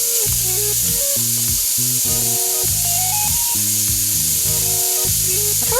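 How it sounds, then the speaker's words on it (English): Strips of bacon fry in a deep skillet about four inches deep, fat rendering with a constant loud hissing sizzle that never lets up, close and even throughout. "So right now I'm just gonna cook the bacon"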